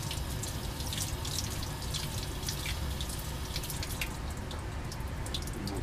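Water runs steadily from a tap, splashing and trickling as lab glassware is rinsed in a sink, a continuous close hiss with no talking.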